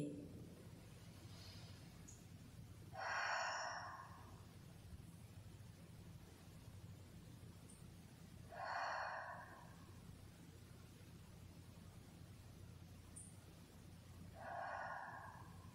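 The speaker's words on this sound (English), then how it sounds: "Breathing in through the nose, exhaling through the mouth for a count of three." During a yoga class, slow breaths drawn in through the nose and let out through the mouth come as three soft, airy bursts spaced about six seconds apart over quiet background hiss.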